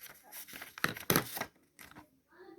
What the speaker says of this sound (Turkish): bir tane buzdolabı poşeti al yani paket